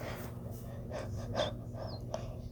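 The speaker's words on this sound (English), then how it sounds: "was trying to catch his breath" A cartoon character in a railway story gasps and pants to catch his breath, a few short breathy gasps over a steady low background hum.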